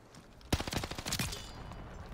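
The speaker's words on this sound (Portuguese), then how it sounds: "Você fica escutando tiro pra tudo quanto é lado aqui nessa porra dessa partida" Rapid bursts of gunfire from the Call of Duty Vanguard alpha, a loud cluster of overlapping shots in a quick rattling volley that tails off into a low din of distant firing.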